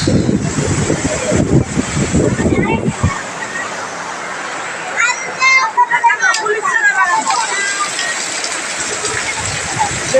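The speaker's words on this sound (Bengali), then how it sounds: "আরে বাতাস" Strong wind roars and buffets the microphone in heavy gusts during a storm at Cox's Bazar, with a person talking over the rushing noise partway through.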